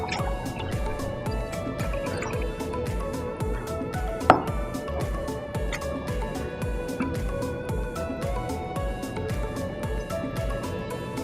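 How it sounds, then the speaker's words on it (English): Wet ingredients for an eggless chocolate lava cake are mixed in a bowl, giving a steady, fast run of close, soft rhythmic tapping and sloshing strokes, with one sharper clink midway. "Then we'll just mix all of our wet ingredients together."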